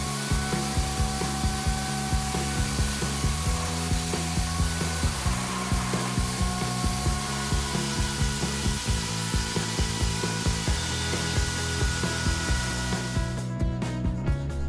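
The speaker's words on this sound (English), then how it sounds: "We have to do this to grind out our rotor without a lathe," Drill spinning a shaft clamped in a wood block while a chisel grinds down a rotor for a Mendocino motor, a steady harsh scraping whir with a regular pulsing rhythm, close and loud throughout with no talking.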